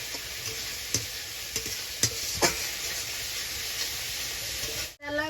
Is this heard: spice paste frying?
yes